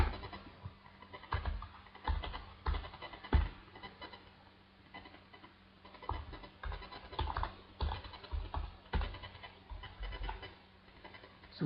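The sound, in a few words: typing code on a computer keyboard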